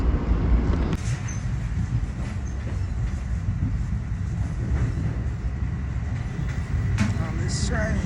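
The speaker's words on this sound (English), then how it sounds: "On this train." Passenger train running from Springfield to Chicago, heard from inside the car as a steady, loud low rumble with faint rail clatter throughout, and a sharp knock near the start.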